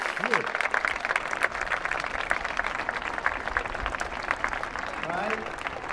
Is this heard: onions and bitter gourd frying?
no